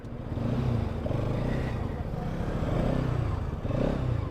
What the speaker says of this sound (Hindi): आवाज़ तो बजाज की अच्छी है, ज़्यादा इससे।